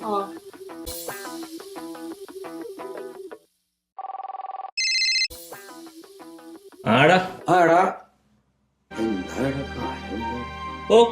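A phone ringtone plays in short melodic bursts between gaps, loud and close, with someone talking in Malayalam around the rings during a call.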